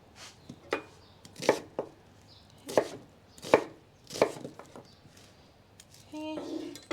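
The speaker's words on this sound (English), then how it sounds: "the same with the onions, just like a rough chop" Knife rough-chopping onions on a cutting board, several distinct sharp chops in an irregular rhythm, close and moderately loud, ending with a brief scraping rustle.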